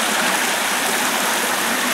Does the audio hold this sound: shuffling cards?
no